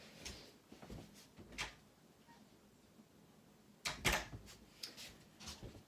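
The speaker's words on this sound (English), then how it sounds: "so I will open the door and we'll come back." A house door opened to let a cat out, heard as a few soft knocks and clatters followed by a louder burst of handle and latch noise near the middle, all in a quiet room with no talking.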